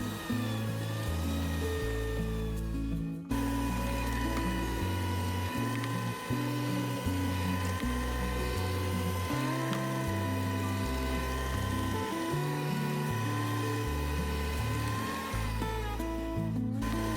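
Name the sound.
hand mixer kneading bread dough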